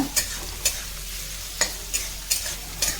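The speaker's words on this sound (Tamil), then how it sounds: "இப்போ இது நல்லா நல்ல நிதானமாக வதக்கி எடுத்துக்கலாம் நம்ம" Two chopped onions sauté in a pan with a quiet sizzle while a spoon scrapes through them in repeated, regular strokes.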